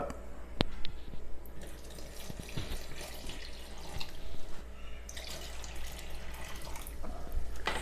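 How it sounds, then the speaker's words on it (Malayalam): Half a cup of water poured into a bowl of rice flour for soft kalathappam batter, giving a steady trickle with light drips and splashes over a low hum throughout. "അതോടൊപ്പം 1/2 കപ്പ് വെള്ളം കൂടി ചേർക്കുക."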